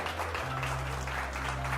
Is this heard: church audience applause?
yes